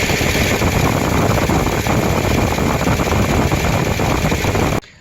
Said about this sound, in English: now we just go turn on the engine and keep an eye on it